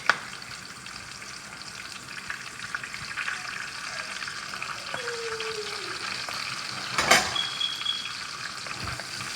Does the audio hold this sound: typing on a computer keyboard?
no